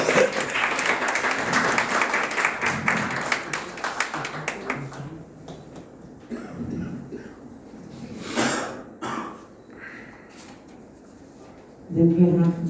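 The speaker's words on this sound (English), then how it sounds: "A very big round of applause." Audience applause during the felicitation of a speaker at an academic event on AI and robotics: a few seconds of clapping that fades out, followed by quieter shuffling, handling noises and scattered voices.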